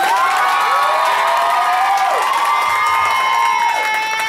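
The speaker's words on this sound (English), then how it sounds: "Okay, everyone applaud right now." A drag show crowd cheers and whoops loudly and continuously, with shouts riding over a steady wash of applause throughout.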